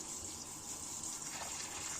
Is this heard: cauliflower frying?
no